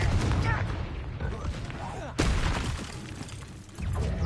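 A Confringo fire spell bursts in a wizard duel in Hogwarts Legacy, one sharp explosive crack mid-fight amid rumbling combat noise, with voices talking around it.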